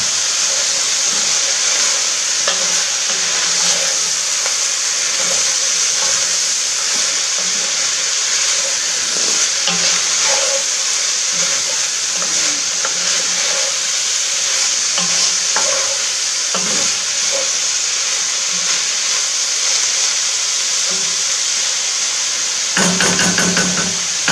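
Leeks and onions sizzle steadily in a pot for a peasant soup, a loud, continuous frying hiss with occasional soft stirring knocks throughout and a brief clatter near the end.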